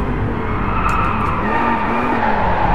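A car braking hard in DriveClub, tires skidding with a sustained squeal over the loud engine drone, close and continuous without pause.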